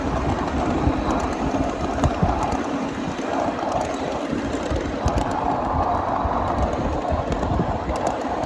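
A ride aboard a 7.5-inch gauge miniature train on a mainline track: continuous rumbling wheels and rhythmic clickety-clack over rail joints, close and steady, with no talking.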